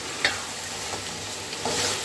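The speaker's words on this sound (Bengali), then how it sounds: "আমি আলুটা ভাজা শুরু করে দিয়েছি।" Potatoes frying in a pan for ghugni, a steady soft sizzle with a few brief scraping stirs, close by and with no talk.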